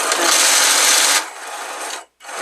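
A Bernina 480 sewing machine whirs steadily at close range, then drops to a lighter hum before briefly cutting out and starting again.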